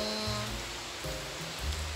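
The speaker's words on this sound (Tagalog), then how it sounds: "Hindi, palakas nga ng palakas yung ulan." Rain pours outside a house with its windows shut, growing heavier, a steady close broadband hiss that holds throughout with faint tonal hum beneath.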